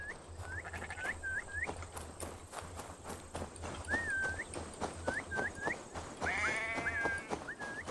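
A sheep in Assassin's Creed Valhalla gives short, repeated high bleats over busy clip-clopping footsteps and rustling, close and fairly loud.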